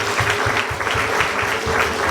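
Steady, dense applause from wedding guests at a church marriage ceremony for Sandrine and Emmanuel, continuous and fairly loud throughout with a faint voice underneath.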